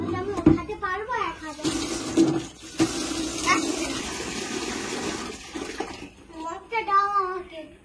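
Water runs into a container for watering plants, a steady rushing pour heard under frequent talking, including a voice.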